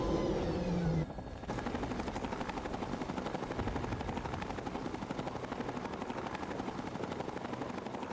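A helicopter lands near a control tower in the video game Fallout 3. Its rotor beats out a loud, steady, rapid chop that carries on without pause, with no voices over it.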